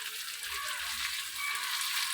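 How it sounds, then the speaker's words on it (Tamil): Cut bitter gourd sautés in a pan for a gravy, giving a soft, even sizzle with faint stirring underneath, steady and fairly close. "கடைசியாக பாகற்காய் கட் பண்ணி வச்சுருக்கதை போடணும்."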